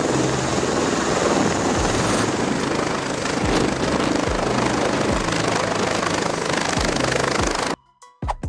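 A military tiltrotor aircraft, part plane and part helicopter, roars steadily with a dense rotor and engine noise and a low rhythmic thump, loud and constant until it cuts off abruptly near the end.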